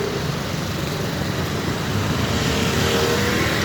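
Road traffic flows past on a nighttime street, a continuous close rumble of car engines and tyres with vehicles passing by.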